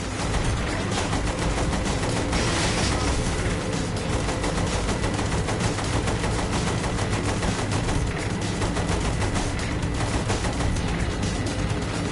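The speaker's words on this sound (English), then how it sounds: "Use the machine gun then, not the cannon." Sustained machine gun fire in the Saints Row 3 video game, dense rapid bursts with explosive impacts running continuously at loud, close range with no talk over it.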